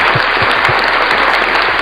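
A short stretch of steady, close applause from a small group, dense clapping without speech, plus a few low thumps near the start.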